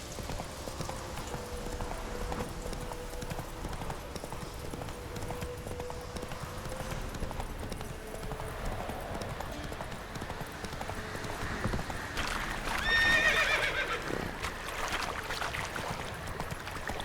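A horse in a video game, hooves clip-clopping in a steady rhythmic gait throughout, with a brief whinny near the end, moderately quiet under a low background ambience.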